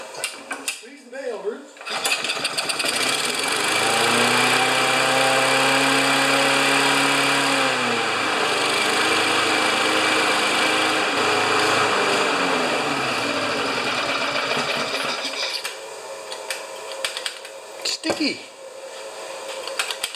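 A Kohler engine on a Craftsman lawn mower catches after a short pull at about two seconds, then runs with a steady, close, loud drone that rises in pitch before easing down and cutting out near the end.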